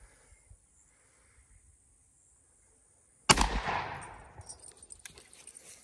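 A 20 gauge shotgun with a modified choke fires a single 2 3/4 inch #3 buckshot load outdoors: one sharp, loud blast after a quiet stretch, followed by a decaying echo and scattered small clicks.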